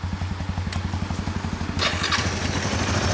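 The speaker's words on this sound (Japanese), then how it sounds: "エストレア行きましょうか、エンジン音" A Kawasaki Estrella motorcycle engine idles close by with a steady, throbbing single-cylinder thump, then a sharper burst of noise joins partway through.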